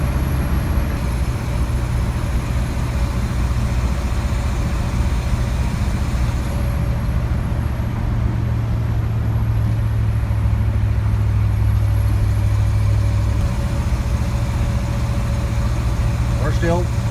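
Ford FE 390 V8 in an F-350 truck cruising in fourth gear through the mountains, a steady droning engine and road rumble throughout with no break.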